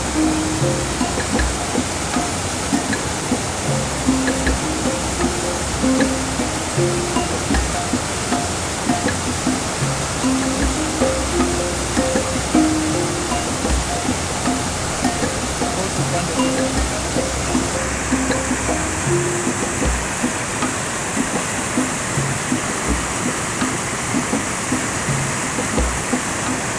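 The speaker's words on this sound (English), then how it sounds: "You see our small fall here. Flows down there." A small waterfall on a village river pours steadily with a dense, continuous rushing roar. The sound is loud and unbroken throughout, with faint tonal background sounds mixed in.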